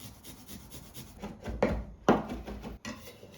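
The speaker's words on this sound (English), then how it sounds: "Let's grate all the garlic." Garlic cloves grated by hand for a traditional Caesar salad, giving a few short scraping rasps against the grater, close and fairly loud, with quieter rubbing between strokes and no talk.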